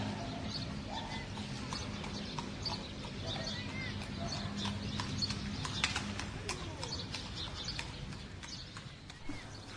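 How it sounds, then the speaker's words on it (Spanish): A horse pulling a small street cart passes outside, its hooves clip-clopping in a steady rhythm beneath distant traffic hum and faint bird calls, with a voice speaking over parts of it. "Ahí pasó un caballo, un carrito, ¿no? Un carrito de la calle"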